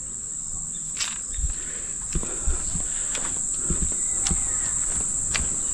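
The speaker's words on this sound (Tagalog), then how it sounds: "maririnig mo na lang mga huni ng ibon," A constant high, thin cricket chirr drones at night by the Manning River in Taree, Australia, with soft scattered taps and rustles below it in an otherwise quiet outdoor setting.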